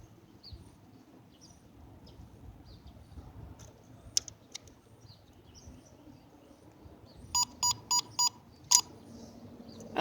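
Four sharp electronic beeps from a Tekno robotic puppy toy come in a quick evenly spaced run near the end, preceded by a couple of isolated chirps over faint room noise.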